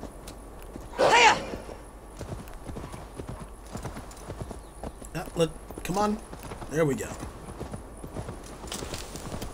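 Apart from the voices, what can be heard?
horse hooves in video game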